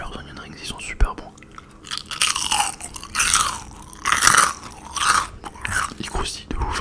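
Crunchy onion rings from Buffalo Grill are bitten and chewed close to the mic, with loud crackling crunches in bursts and soft whispered speech between bites.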